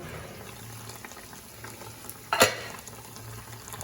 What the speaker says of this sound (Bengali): এবার ছোট ছোট করে বড়া ভেজে নিচ্ছি, ওই বড়ির মতো।